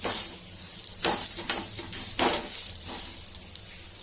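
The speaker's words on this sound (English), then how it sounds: "So now we'll flip this on the tawa. Tawa is hot." An aloo paratha sizzles on a hot tawa, with close hissing bursts that flare up as it is pressed and flipped, and soft scraping between them.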